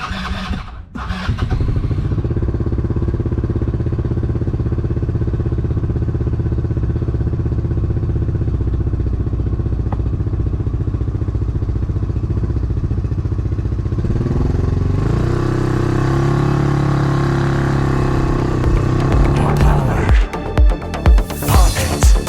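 A Can-Am Maverick X3 X RS Turbo RR side-by-side cranks and catches, then idles in a loud, steady, close rumble. The revs rise noticeably later, and sharp blips follow at the end.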